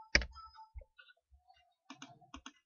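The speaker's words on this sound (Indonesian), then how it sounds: "tekan enter" Single sharp keypress of the Enter key on a computer keyboard, a crisp click followed by a few lighter taps and clicks, close and fairly quiet.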